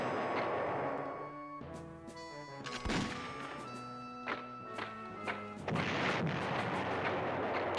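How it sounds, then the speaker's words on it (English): Artillery fire in the PlayStation 1 war strategy game Panzer General: a string of booming thuds and crashes mixed with ringing game tones, moderately loud with no talk. "the artillery can't actually hit anything from here"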